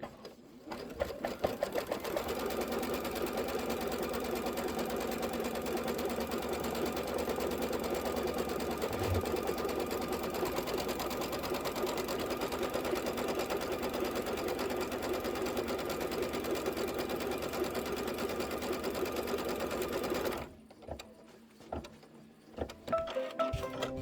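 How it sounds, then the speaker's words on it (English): A sewing machine quilts the flange and border of a Kimberbell Lucky Us quilt, running in one long, steady, even hum for about twenty seconds before stopping abruptly, with a quieter tail of handling noise and no talking. "Let's go ahead and stitch her up."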